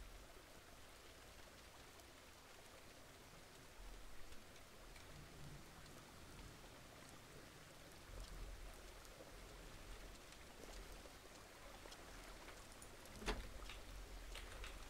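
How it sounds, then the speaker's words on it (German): Steady rain patters in the farming game Farmer's Dynasty, a soft even hiss with a few faint louder drops, alone with no voices. "ich habe keinen Bock mehr auf Regen"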